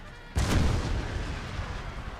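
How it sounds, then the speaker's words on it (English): Cannon fire in a Civil War strategy video game erupts as one loud, deep boom whose rumble swells and slowly decays over continuous battlefield noise. "parts of the cannon crew can still fire straight into the side of it"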